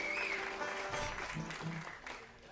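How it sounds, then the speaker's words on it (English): Audience applause in a live music hall, a dense steady clapping that fades slightly toward the end, with faint voices underneath. "I know you're going to clap more when I stop"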